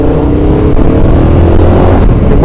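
An inline-four motorcycle engine drones steadily at high revs while being ridden, very loud and close, with wind buffeting and no talking.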